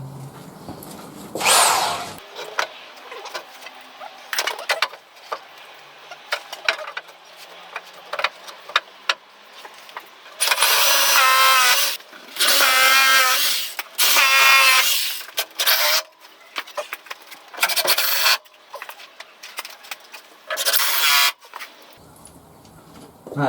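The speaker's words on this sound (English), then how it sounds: "Now the first one I'll drill will be the bottom one with the spirit level in place" A power drill bores holes while fitting a garage door, sounding in repeated loud bursts of whining, grinding noise separated by quieter pauses with handling sounds. The work is close by.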